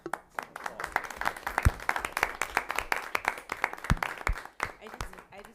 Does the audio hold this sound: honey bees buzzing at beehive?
no